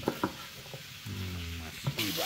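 Chopped garlic drops into a hot clay pot and starts to sizzle softly, a brief faint frying hiss among light clatter of cooking.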